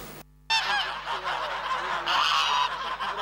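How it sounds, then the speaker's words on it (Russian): Domestic geese honking loudly and close by in an open field in a village, a dense overlapping chorus of calls that continues after a brief quiet gap. "Большая армия домашних гусей свободно разгуливает по полю."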